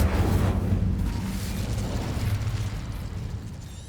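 An Incendio fire spell cast in Hogwarts Legacy bursts with a loud whooshing, rumbling blast that slowly fades into a lingering crackling roar.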